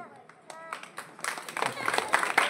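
An audience claps briefly at a kirtan, a devotional storytelling performance, with scattered claps building into a short burst of clapping under a speaking voice.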